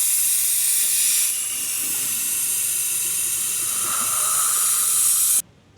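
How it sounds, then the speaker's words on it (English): A pneumatic brake bleeder sucks brake fluid out of a clutch hydraulic system, giving a steady, loud airy hiss for about five seconds, with a slight drop partway through before it cuts off abruptly near the end. "Use my pneumatic brake bleeder to suck out the fluid."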